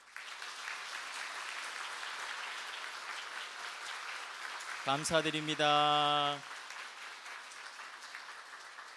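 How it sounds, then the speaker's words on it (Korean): Church congregation applauding retired elders at a year-end worship service, a steady broad clapping wash throughout, briefly interrupted by a short tonal musical or voice sound near the end, with a spoken phrase over it. "우리 원로 장로님, 은퇴 장로님들 인사하실 때 여러분 큰 박수 해주시기 바랍니다."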